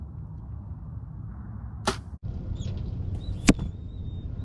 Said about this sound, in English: You can definitely hear those blades cutting through the air.